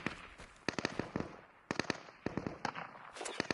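Distant gunfire in the video game Deadside comes as faint, sharp cracks in a few quick clusters, separated by brief quiet gaps.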